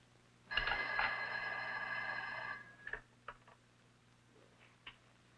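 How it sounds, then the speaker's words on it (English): A telephone bell rings in a quiet home in a 1962 thriller, one long loud metallic trill lasting about two seconds, followed by a few faint clicks and knocks as it stops. "Ruth, don't you hear the phone?"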